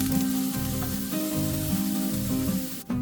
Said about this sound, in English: add and stir fry the ginger and chilli when the oil is ready